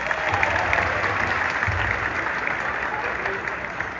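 Audience applause at an outdoor Christmas show in Dois Irmãos, Rio Grande do Sul, with steady, lively clapping from a crowd that carries on for several seconds.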